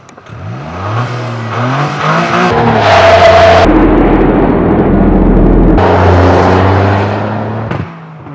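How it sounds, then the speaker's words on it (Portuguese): Engine of a stock 2023 Toyota GR Corolla revving hard through gears with a blow-off valve chuff, loud and close from on board, pitch climbing and dropping between shifts. "Espirro de válvula blow-off em um carro original."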